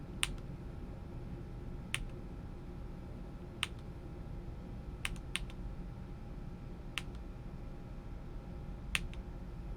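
Sparse, isolated keyboard keystrokes during a StarCraft Zerg-versus-Zerg match, about seven sharp clicks spaced unevenly over a steady low background hum, close and moderately loud with no talking.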